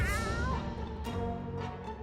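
A cat in a video game meows once with a drawn-out, descending cry near the start, followed by a few soft clicks over a steady low background.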